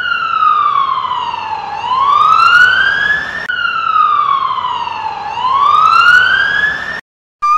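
A loud police car siren wails up and down in two long sweeping cycles, close by, before stopping suddenly.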